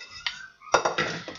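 A medium-sized metal cooking pot is handled in a kitchen, giving several close clanks and clinks in quick succession, with a faint resonant ring after the first knock.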